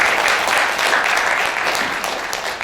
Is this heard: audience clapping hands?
yes